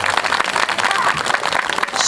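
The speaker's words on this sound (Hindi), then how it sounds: "बजाइए ताली जोरदार।" An audience at a Bhagavat Katha religious discourse claps loudly and continuously in a dense, sustained burst that fills the hall, with a voice faintly mixed in.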